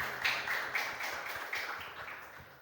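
A church congregation claps together during a celebration service, a steady, fairly soft patter of many hands with periodic swells, no talking over it.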